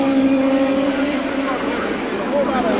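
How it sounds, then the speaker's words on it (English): IndyCar race cars at Portland wind up behind the pace car in a steady, buzzing engine drone, with rising whining tones under loud overlapping commentary. "Pace car accelerates"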